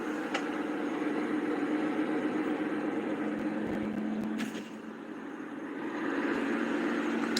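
Bad wheel bearing on a car that shakes under braking, giving a steady drone-like hum with a tonal band, heard alone at moderate level with a brief dip partway through.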